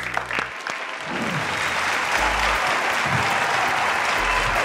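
Studio audience applauding the contestants at a televised quiz competition, a steady sustained wash of clapping from a crowd that swells after a brief start and holds to the end.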